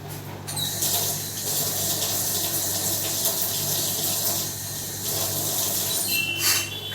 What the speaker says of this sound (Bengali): আমি ঢাকা দিয়ে রাখলাম, হাতটা একটু ধুয়ে আসি